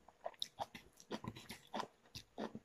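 Crunchy napa cabbage (wombok) kimchi being chewed up close, with a series of crisp, irregular bites and crunches in a steady eating rhythm, no talking.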